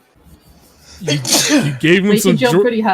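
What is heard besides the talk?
sneeze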